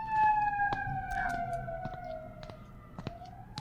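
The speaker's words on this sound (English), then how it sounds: "Oh, sirens." Sirens wail in a steady sustained tone that slowly glides in pitch, with a few sharp knocks and clicks over a low rumble, no talk.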